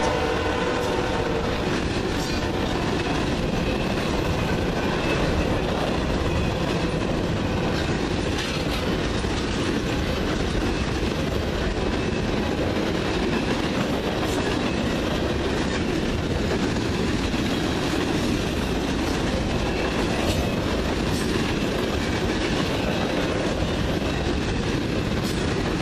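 CN freight train M344 rolls past at Ladysmith with a distributed power locomotive, a loud, continuous, close rumble of wagons with rhythmic clickety-clack of wheels over rail joints and faint squeals, no talking.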